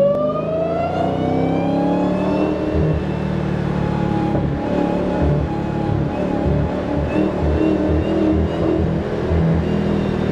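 A Dodge Hellcat engine fitted with a new intake, revving up loudly with a rising whine, then settling into a rough, rumbling idle heard close from inside the car.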